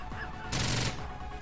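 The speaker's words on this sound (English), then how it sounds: "Fade to black and gunshot." A gunshot sound effect fires in the STRAFE video game, a single noisy blast with a rumbling low tail over continuous game background noise, with no one talking.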